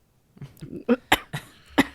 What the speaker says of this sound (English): Is she coughing into the mic?